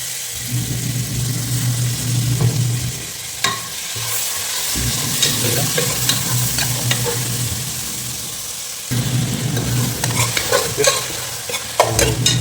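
Biryani masala mix being stirred in a pan for potato mutton dum biryani, a steady sizzle with repeated scraping stir strokes throughout, close and fairly loud, no talking.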